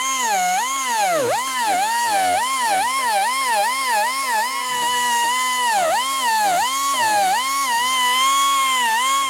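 A power sculpting tool blends the joints of a wooden chair, its whining motor rising and falling in steady repeated sweeps as it works the wood, loud and close throughout with no voices.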